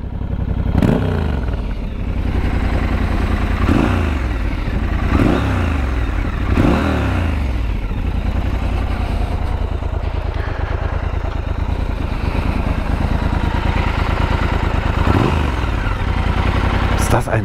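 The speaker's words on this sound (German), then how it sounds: "Das ist ein schönes Blubbern und dann hier Scrambler typisch der hochgelegte Auspuff mit einem super bassigen Klang." A Triumph Scrambler 1200 XE motorcycle idles through its high-mounted exhaust with a deep, bassy burble, close and loud, while several short throttle blips punctuate the steady rumble.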